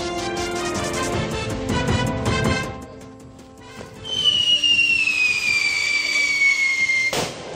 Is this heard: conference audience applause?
no